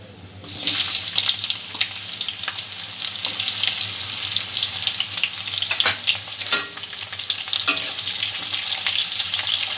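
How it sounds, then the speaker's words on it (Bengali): Sliced onion hitting hot oil in a pan for a shol fish curry with vegetables, a loud sudden sizzle that stays dense and crackling throughout, with a few utensil clicks. "এবারে কাঁচা পেঁয়াজটা যে স্লাইস করে রেখেছিলাম, পেঁয়াজটা দিয়ে দেব।"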